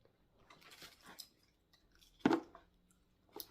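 Hard honey caramel toffee being chewed close to the mic, a few quiet sticky squishes followed by one louder crunchy bite and a faint chew at the end.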